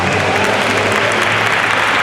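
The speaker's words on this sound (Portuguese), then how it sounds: "Vamos aplaudir assim." A church congregation at a leaders and pastors training applauds loudly, a thick continuous roar of many hands clapping at once, steady and close from start to finish.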